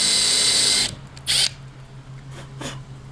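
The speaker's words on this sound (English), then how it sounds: "I got my drill here, my little impact." A small impact drill fitted with a screw extractor whirs loudly for nearly a second on stuck screws in an Acura NSX headlight, followed by a few brief, quieter bursts.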